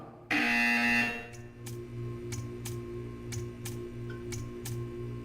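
A sustained electronic buzzer tone from the video game Portal 2 sounds loudly at the start and drones on, with sharp rhythmic clicks ticking through it at regular intervals.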